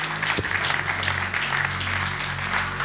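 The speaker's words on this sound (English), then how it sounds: "Marosia, somehow that your clapping will attract the window of heaven" A church congregation claps steadily during a sermon, a continuous wash of applause filling the room.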